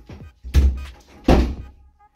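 Two dull thunks of a household door being pushed shut, with a softer knock between them, close and fairly loud, with no one talking over them.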